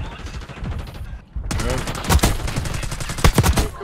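Rapid gunfire bursts in Warzone Black Ops 6, close and loud, with sharp repeated cracks stacking over game noise and a brief dip to near quiet midway before the shooting resumes more densely.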